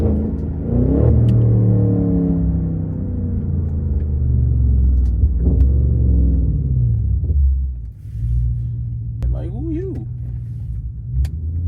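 An Audi A8L engine rumbles steadily from inside the car while driving, with low revving swells and a brief drop in noise partway through.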